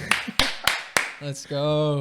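Four sharp, separate claps ring out in a slow, even rhythm, close and loud, before a voice speaks briefly at the end.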